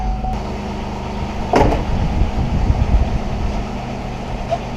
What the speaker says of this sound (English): notice how that just locked when I shut the door